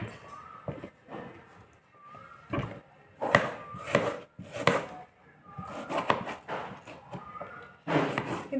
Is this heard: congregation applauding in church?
no